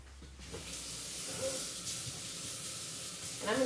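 Water from a kitchen tap briefly rinses a spatula coated in chocolate from devil's food cake batter, a soft, fairly quiet hiss of running water with faint splashing over a few seconds.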